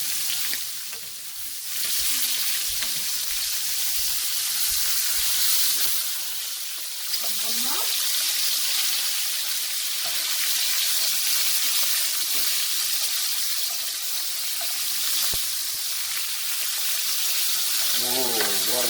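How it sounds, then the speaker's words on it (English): Lamb loin chops fry steadily in a hot pan, a continuous loud sizzle and crackle holding throughout, with brief clinks and a turn of the meat partway through. "then fry it on the second side for about 3 minutes more"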